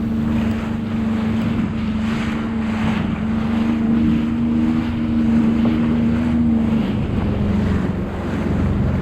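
Waves wash steadily around a harbour as a boat engine hums low and wind buffets the microphone, with no voices.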